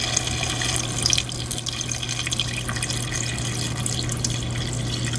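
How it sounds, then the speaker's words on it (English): Beef broth pours steadily into a pot of oxtail stew, a continuous close liquid splash and trickle running at an even level throughout, with no talking. "make sure you pour your beef broth in"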